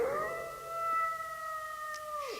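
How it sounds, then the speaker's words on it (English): A wolf scream rings out from a homemade movie, one long sustained howl holding a steady pitch, then bending sharply downward at the end, loud and clear with no talking over it. "Another wolf scream."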